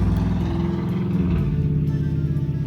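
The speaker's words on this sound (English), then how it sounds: "wow, loud motorcycle" A loud motorcycle engine passes close by, its strong low rumble steady and droning across the whole short stretch with no talk.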